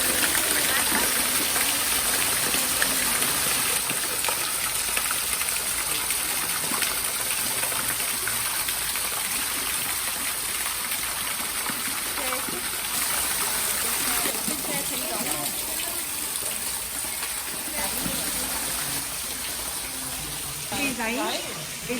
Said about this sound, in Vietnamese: Nghe rất ồn ào bởi vì ở đây là một cái thác nước.